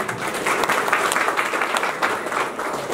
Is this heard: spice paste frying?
no